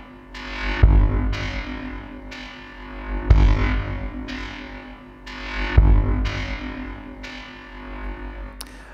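Three deep, booming kick drum hits from an Ensoniq ASR-X sampler spaced evenly, each followed by a long, washy reverb tail that swells and fades, with a distorted, processed character.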